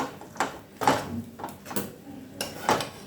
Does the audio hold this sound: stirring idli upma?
yes